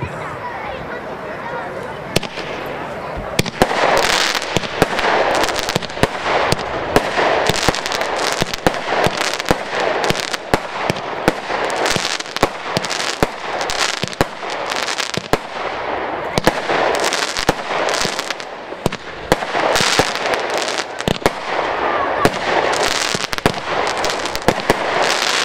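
A firework battery fires 25 mixed shots in a rapid, continuous string of loud cracking shots and bursts, crackle and booms overlapping for over twenty seconds with no pauses.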